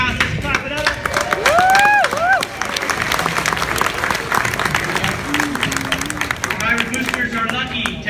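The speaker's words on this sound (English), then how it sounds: "People in the house, let's clap it up." A crowd at a pirate booster induction event claps and applauds steadily, with voices calling out over the clapping and a murmur of chatter underneath.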